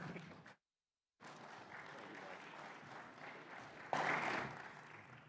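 Audience applause at an aviation forum session on eVTOL piloting, a steady wash of clapping from a seated crowd, broken by a short silent gap and swelling louder near the end.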